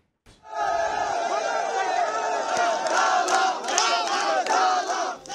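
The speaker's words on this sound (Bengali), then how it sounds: "সমর্থিত প্রার্থীর বিজয়ের খবরে উল্লাসে মেতে ওঠেন নেতাকর্মীরা" Party workers and supporters celebrating an upazila election win in Bangladesh chant and shout together as a loud, continuous crowd roar, with rhythmic slogan bursts and cheers that swell toward the end.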